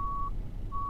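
Reversing beeps from a truck in Euro Truck Simulator 2 with the ProMods map: two steady, high-pitched electronic tones, one at the start and one at the end, separated by a short gap, over a low engine rumble.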